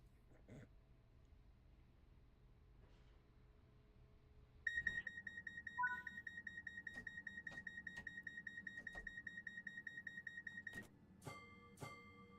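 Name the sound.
train cab alarm warning beep in video game Train Sim World 6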